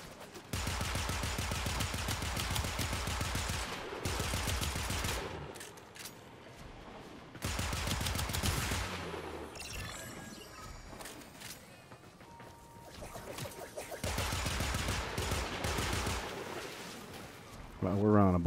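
Warframe gunfire comes in long bursts of rapid automatic shots, loud and close. The bursts alternate with quieter stretches of clanking game sounds, and voices are talking throughout.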